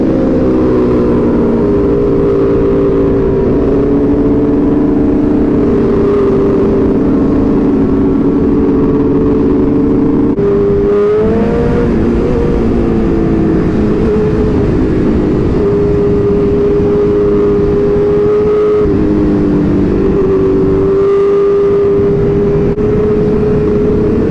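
A large group of motorcycles, including a ZX-10R and a Gixxer, rides together on a group ride, with a loud, continuous engine drone that rises and dips as the bikes rev and pass close by, with no talking.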